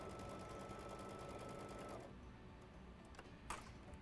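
A sewing machine stitches the edge of a quilt block, running at a steady rapid chatter for about two seconds before stopping, followed by a few quiet clicks and a short handling rustle as the fabric is turned.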